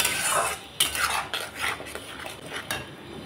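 A metal spoon stirs and scrapes a curry of potato, cauliflower, tomato paste and peas in a pan, making a run of close, uneven clinks and scrapes with a soft sizzle underneath.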